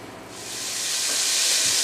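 Meatballs brown in hot fat in a pot for pasta e fagioli, a loud broad sizzle that swells and holds steady with no talking.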